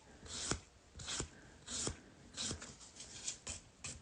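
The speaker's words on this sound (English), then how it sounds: "just gently buff that out" Hard gel on a fingernail being buffed with a nail file in a manicure session, a series of short, close, soft raspy strokes in an uneven rhythm, about seven passes.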